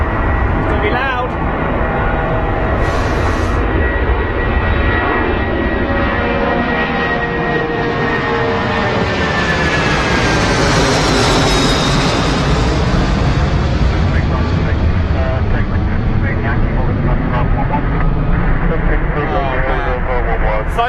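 A Korean Air Airbus A380 jet roars past at Heathrow Airport, a loud, sustained engine rumble and whine that swells to a peak as it passes close by, then fades slightly while remaining strong.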